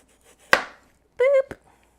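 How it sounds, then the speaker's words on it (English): A knife chops cheesesteak ingredients into small pieces: one sharp close chop on a board, a brief hummed vocal tone, then a lighter tap, with quiet between. "We want it to be little chopped up pieces, you know, we don't want like big ass chunks of this."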